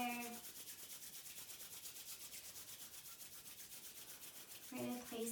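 Palms rub briskly together in a quiet seated yoga session, a soft continuous swishing friction close by, with a short bit of melodic sound at the start and end.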